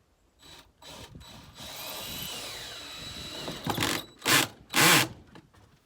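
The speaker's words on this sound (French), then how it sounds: "on est allé pré-percer dans la pierre avec une mèche à béton et on utilise des vis en acier inoxydable" A power drill drives stainless steel screws into pre-drilled stone wall panels, whirring in short bursts, then a longer sustained run, then three final loud spurts.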